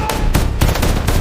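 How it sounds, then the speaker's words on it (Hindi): Rapid bursts of gunfire, several sharp cracks in quick succession, loud and close. "गोलियां चलाओ, उन्हें रोक दो।"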